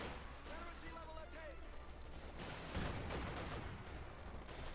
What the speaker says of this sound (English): we got the heavy machine gun joining in the fun as well